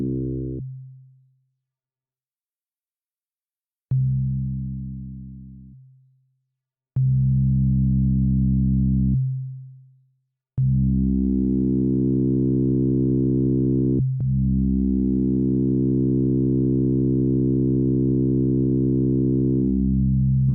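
OpZilla FM synthesizer plugin playing a series of sustained tones, each held note swelling and changing brightness as the envelope shapes the modulator level, with gaps between the first few notes and then longer overlapping tones.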